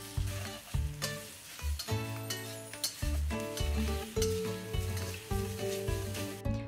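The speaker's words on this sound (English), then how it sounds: "When the oil starts to smoke, brown the steak on both sides and cook the steak until your desired doneness" Steak browning in smoking-hot oil in a wok, loud crackling sizzle with frequent clanks and scrapes of stirring, heard close with no one speaking.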